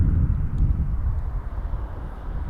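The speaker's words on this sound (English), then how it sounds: "Here comes the Dreamliner to Frankfurt. Be rotating towards us." An Air Canada Boeing 787 Dreamliner bound for Frankfurt takes off at Toronto Pearson Airport, a loud, low, rumbling engine roar that gradually eases, heard without talk.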